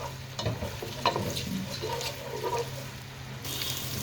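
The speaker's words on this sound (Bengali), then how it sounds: "নেড়ে চেড়ে দিই।" Onions frying in spiced oil for chicken biryani, stirred in the pan with a continuous moderate sizzle and soft scraping strokes, plus a low steady hum underneath.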